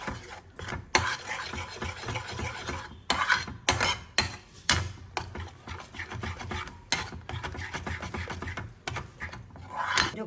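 Powdered jaggery is stirred into sweet potato rabdi, with a spoon scraping and clinking around a pot in uneven bursts broken by short pauses, close and moderately quiet.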